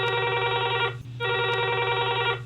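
A telephone rings for a farmers' phone-in radio call, two loud electronic trilling bursts separated by a short pause.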